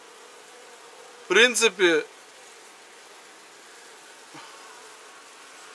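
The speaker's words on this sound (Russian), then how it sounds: "Ну, пчелки работают, поэтому вторые магазины пока им ставить не буду." Honey bees work at a hive during a rapeseed honey season, giving a faint, steady low buzz throughout. Someone briefly speaks over the hum.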